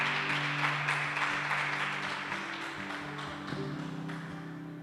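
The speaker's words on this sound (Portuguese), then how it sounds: "Então celebre a Ele com as suas palmas, em nome de Jesus." Congregation in a church clapping their hands in celebration, a dense even patter of palms sustained over a held musical tone, gradually easing in loudness.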